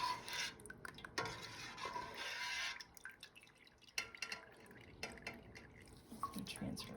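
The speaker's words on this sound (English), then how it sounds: "I'm going to transfer over. Let's see if I can get some of this to drain out." Cheese curds drain liquid through a colander with quiet, intermittent dripping and trickling, occasional light handling clatter, and soft muffled movement close by.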